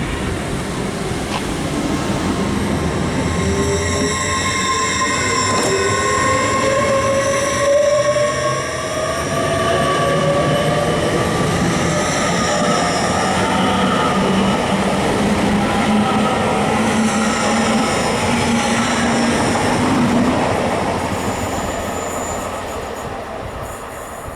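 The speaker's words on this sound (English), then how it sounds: "off goes 81229 with the 1341 LNER service to Leeds" LNER train 81229 departs Grantham station on the East Coast Main Line with a loud, sustained rumble and rising whine, while wheels squeal and clatter over the rails throughout.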